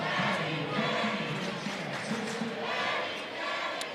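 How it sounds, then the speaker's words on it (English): Spectators at a high school boys' varsity basketball game in a gym react loudly against a foul call, a dense, sustained roar of crowd voices filling the whole moment. "Crowd did not like that at all."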